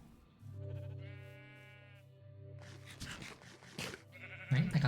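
A sheep in Minecraft gives a drawn-out nasal bleat, clear and close, followed by a second short bleat amid light game noise.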